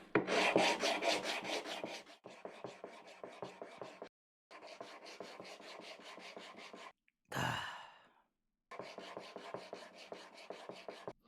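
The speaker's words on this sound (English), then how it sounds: "we're just going to sand this baby smooth" Wood being sanded by hand with adhesive sandpaper: rapid rhythmic back-and-forth rasping strokes in several bursts separated by silent pauses, with one brief breathy gust midway.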